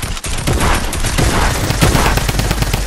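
A drum gun fires in a video game, a dense, loud, continuous volley of rapid shots that runs without a break for the whole stretch, with no talking.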